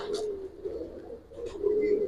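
Jabra pigeons in a loft cooing close by, a low, steady rolling coo repeated across the moment with a few faint higher chirps mixed in.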